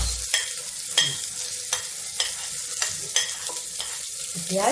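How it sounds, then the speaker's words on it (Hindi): Garlic browning in a pan over a high gas flame, with onions added next, makes a steady sizzle broken by rhythmic scraping stirs about every half second, close and with no talk. "गैस मेरी तेज है और ये थोड़ा सा लहसुन ब्राउन हो, इसके बाद ये प्याज डाल देते हैं।"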